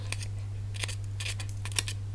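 Small crafting scissors snip paper for an autumn scrapbook layout, a handful of quick, crisp cuts heard close and alone over a low steady hum.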